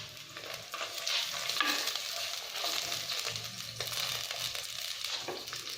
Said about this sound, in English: So I want just to fry it whole because I want to see it whole and eat it whole.